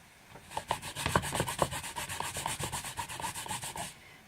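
A rubber stamp is scrubbed clean on a pad with a quick run of rhythmic rubbing strokes, close and fairly quiet, alone without talk, ending abruptly after about four seconds.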